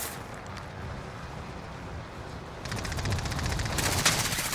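Gunfire in the Warzone video game, heard as rapid, evenly spaced automatic bursts that kick in partway through over a steady background rumble, fairly close and growing louder.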